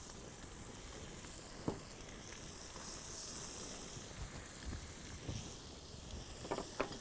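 Red onion and fennel fry in oil with bay leaves, giving a soft, continuous sizzle. A few sharp utensil clinks and stirring knocks are scattered over it, heard fairly quietly up close with no talk.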